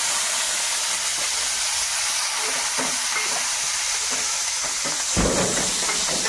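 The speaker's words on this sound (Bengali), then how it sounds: "একটু কালো জিরে আর কাঁচা লঙ্কা দেবো তেলে।" Nigella seeds and green chilies sizzle in a small amount of hot oil, a loud, continuous frying hiss that fills the whole stretch, with a brief burst of louder crackle near the end.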